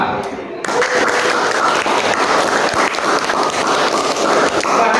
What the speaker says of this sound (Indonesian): tepuk tangan untuk kelompok 4. Anak-anak, tepuk tangan untuk kita semua.